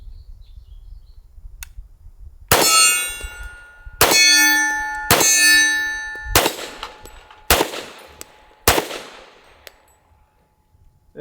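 Unsuppressed gunshots ring off steel silhouette and dueling tree targets: six sharp, loud impacts, each followed by a bright metallic clang that rings and decays, spaced about a second apart, with no talking.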